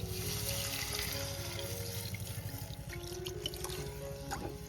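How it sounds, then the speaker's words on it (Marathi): Water is poured into a cooking pan of red masala and raw mango for a Konkani mandeli fish curry. It makes a steady, close rushing and splashing stream that runs without a break, with no talking. "आता मी याच्यामध्ये पाणी घेते."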